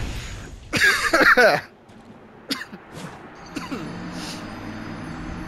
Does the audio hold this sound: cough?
yes